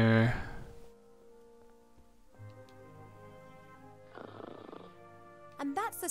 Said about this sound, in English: that's the sound of Cheep Cheep snoring